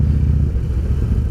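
A Harley-Davidson motorcycle engine fitted with Stage 1 upgrades, including a high-flow intake, an aftermarket exhaust and a fresh tune, runs with a loud, close, steady low rumble and a faint mechanical clatter.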